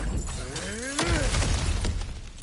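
Objects smash in God of War Ragnarok: one loud, close shattering crash of breaking debris cuts through steady game ambience.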